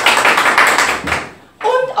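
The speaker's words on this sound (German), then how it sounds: "Ein Applaus bitte." An audience at a school game show claps in a dense, loud burst of applause lasting about a second, fading out before a voice speaks briefly.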